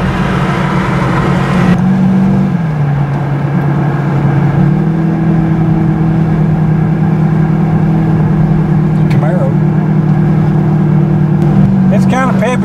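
A Chevrolet S10 pickup with a 406 small-block V8 and a clogged exhaust runs loud and close, its low engine drone holding steady with slight pitch shifts as it drives, without voices.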